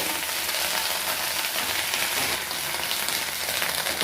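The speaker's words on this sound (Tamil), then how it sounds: "இந்த எண்ணெயிலே நல்லா புரிந்து வதங்கிட்டு" Drumstick leaves sautéing in oil in a pan give off a steady, dense, close sizzle and crackle that runs without a break for the whole stretch.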